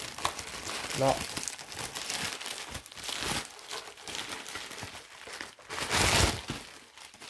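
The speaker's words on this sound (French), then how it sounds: "Ça, je vais le déballer justement en même temps." Packaging of an Amewi KL07S RC car unwrapped up close, with loud crinkling and rustling of plastic and paper in bursts, while someone speaks briefly.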